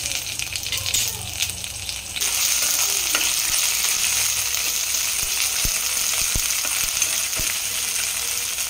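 Curry leaves and chilli thecha sizzle and crackle in hot oil for a tempering, a steady loud frying hiss with a sharper burst of spluttering at the start and occasional faint clinks.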